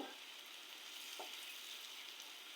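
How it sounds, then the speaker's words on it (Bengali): Onions frying in a pan for a fish dish, a continuous soft hissing sizzle, fairly quiet and even throughout. "আমি এখানে পেঁয়াজ ভেজে নিচ্ছি, মাছ রান্না করব।"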